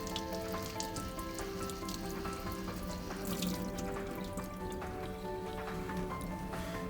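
Dispenser parts from a Miele built-in coffee maker being washed by hand under running water in a sink, a steady rushing stream with scattered splashes and clinks of parts, constant and close throughout.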